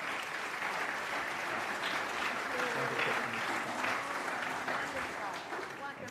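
Audience applause at a Senate Democratic rural summit, steady, dense clapping from a large crowd welcoming a speaker, sustained and fairly loud throughout with a faint voice underneath.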